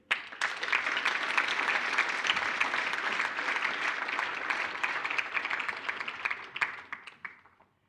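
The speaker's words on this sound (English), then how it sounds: "A round of applause once again" Sustained applause from an audience at a mathematics awards function in South Africa, dense steady clapping that holds for several seconds, with a few louder individual claps near the end before fading.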